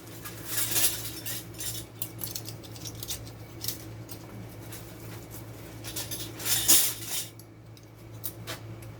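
Metal canning lids set onto glass jars of dilly beans give a few light, close clinks and taps over a quiet background, with a sharper clatter near the end.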